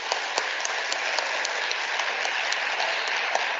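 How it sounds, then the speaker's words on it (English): An audience at a young women's symposium applauds, a dense, even wash of many hands clapping that holds steady for a few seconds. "may we officially give her a loud applause that is befitting."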